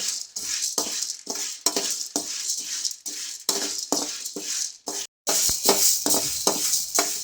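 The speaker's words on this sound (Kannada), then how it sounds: "ಇದನ್ನು ಕೂಡ ಹೀಗೆ ಹುರಿಬೇಕು ಕೆಂಪಾಗುವ ತನಕ. ಮಾತ್ರ ಇದು ಯಾವುದಕ್ಕೂ ಎಣ್ಣೆ ಹಾಕಲಿಕ್ಕಿಲ್ಲ, ಬರೀ ಡ್ರೈ ರೋಸ್ಟೇ ಮಾಡಬೇಕು" Lentils dry roasted in a pan without oil until reddish, rhythmic scraping strokes of a spatula with light rattling grains, repeating about every half second, close and moderately loud, with one brief pause.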